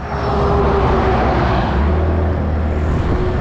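A Yamaha BWS 125 scooter rides along a rough village road, its engine a steady close drone mixed with wind rush and road rumble throughout.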